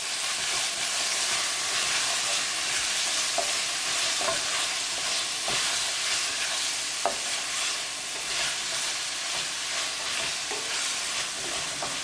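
Mushrooms and French beans seasoned with salt, coriander, cumin, garam masala and turmeric are stirred in a hot pan, with a close, continuous sizzle and occasional utensil scrapes and knocks.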